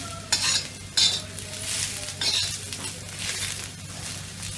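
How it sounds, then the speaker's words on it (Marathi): Dry coconut and cumin roasting in a pan for a village-style red sandga curry, with steady scraping stirs and a soft sizzle running throughout, a couple of sharper utensil knocks near the start. "आता हे सुकं खोबरंही चांगलं असं ब्राऊन कलरवर भाजायचं"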